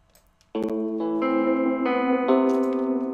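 A trap beat synth melody in Ableton with a wobbling, warbling tone and reverb tail, notes stepping along steadily after a brief quiet start.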